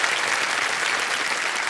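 Steady, dense applause from a studio audience on a television quiz show set, loud and continuous without pause, with no voices over it.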